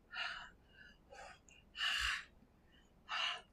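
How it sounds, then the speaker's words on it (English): Several close, breathy exhalations onto an ink stamp to reactivate its dried ink while making cards, three longer huffs separated by fainter breaths. "I'm just going to breathe on it."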